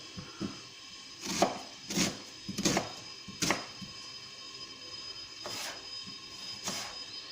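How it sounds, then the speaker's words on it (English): An onion being finely chopped with a knife on a board, giving a series of sharp, irregular thuds and clicks close by, with short pauses between the cuts. "peel an onion, chop it up quite finely"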